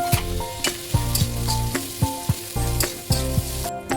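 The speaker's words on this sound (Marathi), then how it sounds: "तेल चांगलं गरम झाल्यानंतर त्यामध्ये कांदा टाकला." Onions fry in hot oil with a bright steady sizzle, punctuated by regular clanking strokes of a spoon stirring against the pan, close up and without speech.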